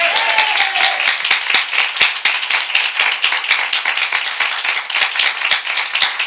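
A church congregation applauds during a Sunday worship service, a steady dense wash of many hands clapping with a few louder, closer claps standing out, and a brief voice at the start.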